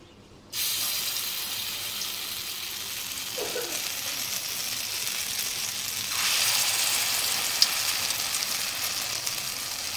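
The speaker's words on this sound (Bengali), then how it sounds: "আর কড়াইয়ের তেল তো গরম হয়ে গেছে, এখন কড়াইয়ের ভেতরে আমি ছেড়ে দেবো পরপর বড়াগুলো।" Lentil fritters (bora) of two kinds of dal drop into hot oil in a wok, setting off a steady loud sizzle that begins abruptly and swells further partway through, with no talking.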